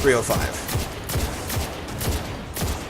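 Several sharp shots from the Jade Rabbit scout rifle in Destiny 2 ring out at a steady, deliberate pace, each a crisp crack with a short tail, while someone speaks briefly.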